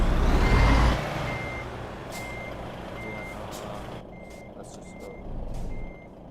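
Reversing beeps from a truck in Euro Truck Simulator, evenly spaced steady tones over a loud engine rumble, with a hiss near the start. No one talks.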